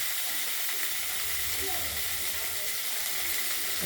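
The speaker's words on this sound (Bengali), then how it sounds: "তেলের মধ্যে শাকগুলো ছেড়ে দিলাম" Radish greens, squeezed of their water, sizzle and spit in hot oil in a karai, a steady, close frying hiss that runs unbroken throughout.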